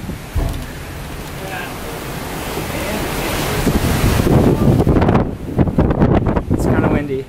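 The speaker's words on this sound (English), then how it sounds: "It's kind of windy." On a Caribbean beach, strong wind buffets the microphone with roaring gusts over surf, loud and continuous, building toward the end while people talk faintly underneath.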